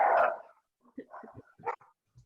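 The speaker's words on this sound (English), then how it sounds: "All the dogs are barking." Dogs barking indoors during a family video call, one loud bark followed by a few softer yips and whimpers at a short distance, sparse with quiet gaps.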